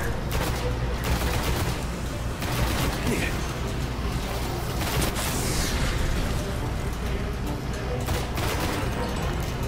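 Continuous gunfire and combat noise from the video game Destiny fill the clip with dense, steady shots and explosions that never let up, close and loud throughout.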